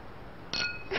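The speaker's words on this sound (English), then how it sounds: "It sounds like clinking of glasses and then two people just laughing and having fun." Glasses clinking in The Simpsons: Tapped Out mobile game, two light bright chimes a fraction of a second apart, faint and clean over quiet background.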